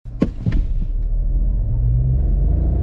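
A Volkswagen T-Cross 1.0 turbo launches in a drag race against a Dodge Ram 2500, a few sharp clanks giving way to a steady, loud low engine rumble that holds as the car pulls away.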